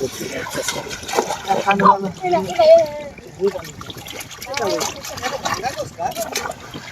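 A fisherman dives into river water, giving splashes and trickling water over a steady wash of flowing river, with people talking throughout.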